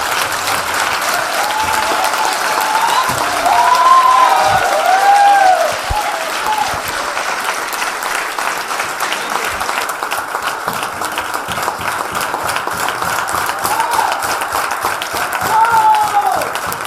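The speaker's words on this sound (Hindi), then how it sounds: "जोरदार तालियां सर के लिए।" An audience at a training session in a hall applauds loudly, with the dense clapping swelling and easing through the stretch while a voice sounds over it in places.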